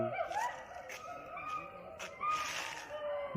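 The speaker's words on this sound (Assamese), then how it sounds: "বান্দৰ খোপা হুলস্থুল শুনিছে নাই কেনেকুৱা চিঞৰি আছে" Shrill, wavering screeches from monkeys at a distance in a zoo, rising and falling in several short bursts over a busy outdoor background.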